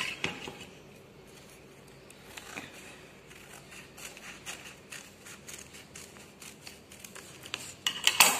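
Scissors cut paper for a children's craft activity, a series of soft, quiet snips and rustles at an uneven pace, growing slightly louder and busier toward the end.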